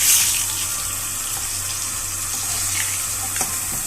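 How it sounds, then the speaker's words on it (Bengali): Bhola fish fries in a pan on a home kitchen stove, a steady close hissing sizzle that runs throughout with no voices. "দেখো এদিকে মাছ ভাজা হচ্ছে"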